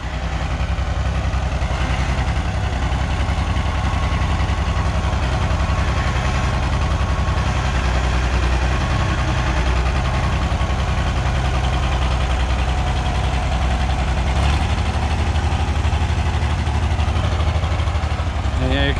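The six-cylinder engine of an Oliver 1650 tractor, left unused for three years, runs rough and smoky, not firing on all cylinders. It gives a loud, continuous, close-up engine drone with an uneven low rumble throughout.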